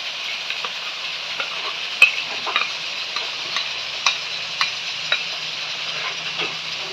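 Masala frying in a kadahi for beef karahi, with yogurt being added, gives a steady soft sizzle under repeated light clicks and scrapes of a stirring spoon.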